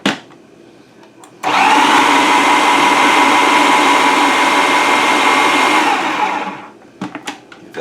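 A countertop blender purees blueberries for a cheesecake, roaring loud and steady for about five seconds after a quiet start, then cutting off into a few soft clatters.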